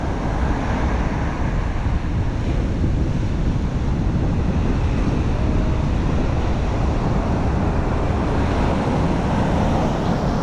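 Ocean surf rolls onto a beach in Senegal where a boat is being hauled up by hand, a loud, constant roar of waves mixed with heavy wind buffeting the microphone, with no voices.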